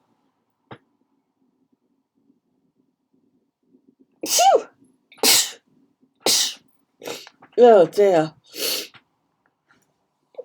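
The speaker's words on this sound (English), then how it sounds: "I'm going to sneeze now." A person sneezes in a quiet room, with a faint click first and then a quick run of four or five loud, close sneezes, some with voiced gasps. A brief spoken remark comes between them.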